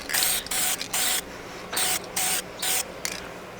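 Car interior trim pieces from an Integra DA9 being spray painted, heard as short bursts of loud aerosol hiss, about seven in a row with brief pauses between, close up and without talking.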